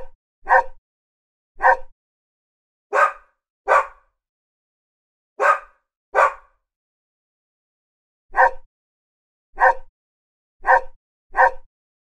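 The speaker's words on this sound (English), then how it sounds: "Dog." A dog barks in short, sharp bursts, mostly in pairs, with gaps of silence between them; ten barks in all, close and fairly loud.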